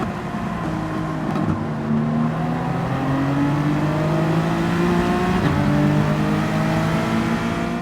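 A race car engine in Gran Turismo 7 drones continuously and loudly, its pitch rising and falling with shifts and throttle changes, with no talking.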